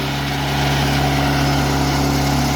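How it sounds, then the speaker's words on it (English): The 4-cylinder engine of a Timberking 2220 sawmill idles close by in a steady, throaty drone, even and continuous throughout with no other sounds. "it's got a nice throaty 4-cylinder sound"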